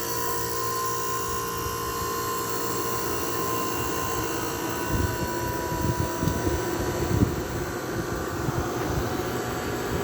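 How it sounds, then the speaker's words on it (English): An air conditioning unit with a Westinghouse fan motor running on low cool, a steady loud whirring drone with a constant hum, joined midway by rougher rattling and fluttering. "The Westinghouse fan motor really does work though."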